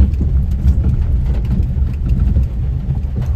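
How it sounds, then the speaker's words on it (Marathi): Heavy rain falling outdoors, a loud, low, rumbling wash with scattered patters and no voices. "पाऊसच जाम पडतोय"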